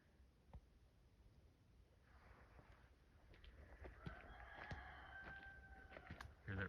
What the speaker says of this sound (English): Hear that rooster in the background?